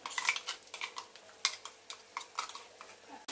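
Repeated metallic scraping and clinking of a utensil against a pan as ground chili is stirred into an onion mixture, steady and close, with a faint frying hiss underneath and no talking.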